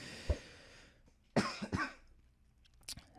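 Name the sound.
coughing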